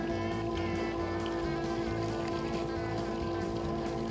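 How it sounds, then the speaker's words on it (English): An RV black tank macerator pump on a Winnebago Travato 59GL runs with a steady, droning mechanical hum and faint churning, constant and unbroken for the whole stretch. "So you can hear the macerator has kind of changed noise."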